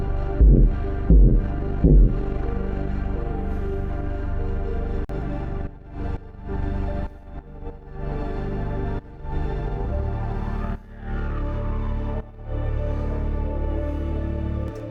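A big synth sound runs through a side-chain compressor, its level ducking and swelling in a rhythmic pumping throb, with sharp attacks at first, then long sustained stretches broken by regular dips.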